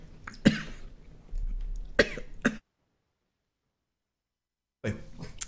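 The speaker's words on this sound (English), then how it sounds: "Coughing fit." A person on a radio-style talk show coughs in several sharp, close bursts, then the sound cuts to silence before a final cough returns.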